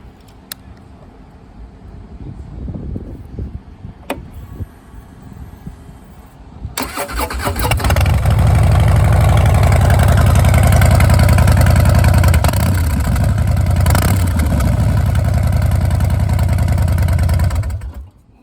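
A 2015 Harley-Davidson Dyna Street Bob with keyless fob ignition cranks and fires up after a few quiet seconds, then settles into a loud, close, steady idle with a lumpy low rumble that continues to the end.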